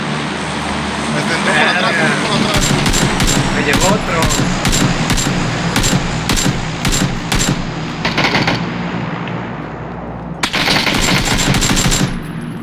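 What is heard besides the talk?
gunfire in a video game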